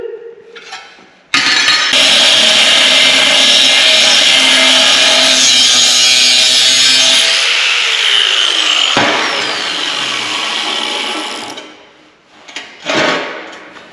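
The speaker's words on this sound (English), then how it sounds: "I'm going to get some of this tube cut up and then start welding it together" 2x2 11-gauge steel tube cut for a steel truck bed, a loud close power-tool cutting whine that runs about ten seconds, then winds down into brief clanks.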